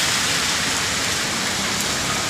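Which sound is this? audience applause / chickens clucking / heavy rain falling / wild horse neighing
heavy rain falling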